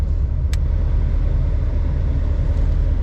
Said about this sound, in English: hopefully you can hear the fan at all different speeds